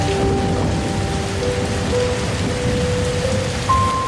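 Night rain falls steadily on a treehouse in a Costa Rican rainforest, a loud, even patter on surfaces close by, with thin sustained tones from insects or frogs threaded through it.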